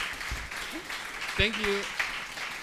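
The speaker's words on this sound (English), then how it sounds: "warm applause to our wonderful guests today" A short burst of warm audience applause for guests at an event, soft and diffuse, while someone speaks briefly over it.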